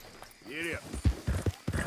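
Horse hooves clip-clop at a gallop in Red Dead Redemption 2, a rhythmic run of thuds under a voice and a rising whistle-like call.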